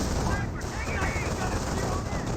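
An MG42 machine gun in Company of Heroes rattles in a steady, unbroken stream of automatic fire, mixed with the surrounding din of battle in the game.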